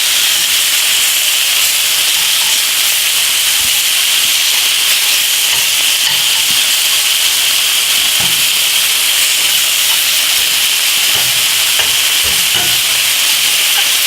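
Thin pork cutlets crowded in a pan, frying and browning with a steady, continuous hiss and sizzle throughout, with no talking.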